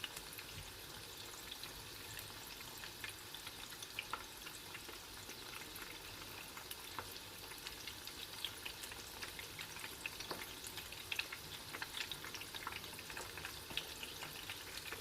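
Chicken pieces for sweet chilli chicken frying in hot oil, a steady dense sizzle with crackling pops running the whole time at moderate level, no voices.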